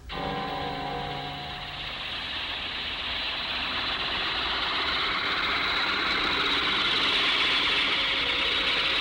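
A steady helicopter engine drone with a rapid rhythmic rotor chop, holding loud and constant, growing slightly brighter over time.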